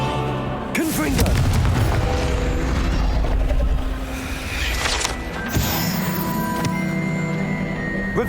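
A Confringo blasting spell bursts in Hogwarts Legacy, a loud booming blast with a rumbling tail that sits over continuous game music and ambience, followed by a second impact later on.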